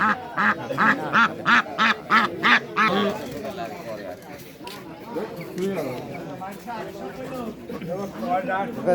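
Ducks quack in a rapid series of loud, close calls at a village duck and chicken market, then further quacks mix with people talking over the market bustle.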